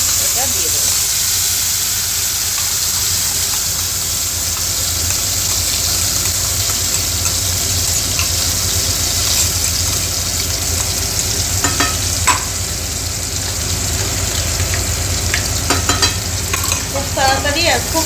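Tomato and green chili paste with black cumin fries in a hot pan, giving a steady, close sizzle and hiss that runs unbroken, with occasional clicks and scrapes of stirring.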